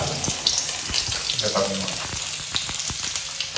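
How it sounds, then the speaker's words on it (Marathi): Washed beans dropped into hot oil, a busy wet crackling sizzle with sharp pops and splashy water-like hiss, close and fairly loud throughout. "आणि शेंगा हा धुवून व्यवस्थित आम्ही आता तेलात टाकत आहोत"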